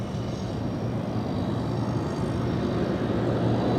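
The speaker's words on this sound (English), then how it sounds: "there goes the Dreamliner" A Boeing 787 Dreamliner airliner departing Los Angeles International Airport, heard as a steady, distant broadband jet roar with a low engine hum that holds constant throughout, with no talking.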